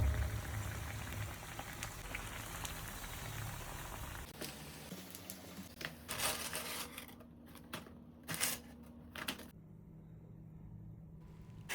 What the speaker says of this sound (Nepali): यसरी क्रमशः हामी रिमाइनिङ ब्रेड पकौडालाई पनि क्रिस्पी हुन्जेलसम्म फ्राई गर्छौँ